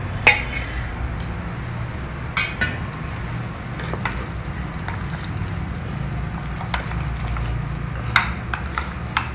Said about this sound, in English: Add curd and mix it well together.